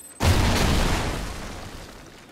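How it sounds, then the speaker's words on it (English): A canister bomb detonates in the Call of Duty: Ghosts video game, one sudden loud booming blast with a rumbling tail that slowly fades over about two seconds. "I'm gonna chuck a canister bomb, and look how big the explosion is"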